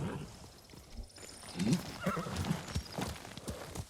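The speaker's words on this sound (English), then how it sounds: "Horse!" A horse whinnies while hooves clop and shuffle close by in the video game Ghost of Tsushima, the neigh rising briefly over a soft, steady background rustle.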